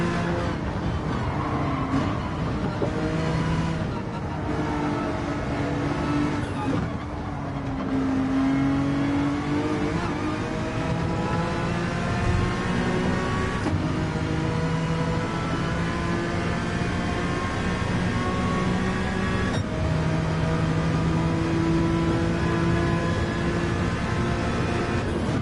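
Race car engines in Gran Turismo 7 howl continuously through corners, the pitch climbing and dropping with shifts and braking, a steady loud drone over the whole stretch without speech.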